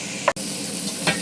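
Chopped tomatoes sizzle in a hot pan, a brief steady hiss broken by a couple of quick stirring scrapes, close and alone.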